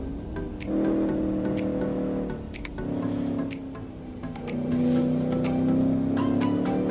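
A naturally aspirated, non-turbo engine in a racing video game revs up and down in rising and falling tonal sweeps, with short clicks and taps scattered throughout and no voices.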